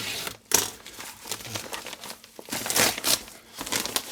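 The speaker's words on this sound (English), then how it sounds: "Here's an envelope. Let's cut this one open." A paper envelope of mail being cut open up close, with sharp crinkling and tearing bursts of paper separated by short pauses.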